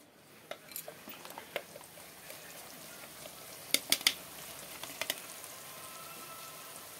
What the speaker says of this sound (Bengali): এখানে পেঁয়াজগুলো তেলের মধ্যে দেওয়া হয়ে গেল। এখন পেঁয়াজগুলো লাল করে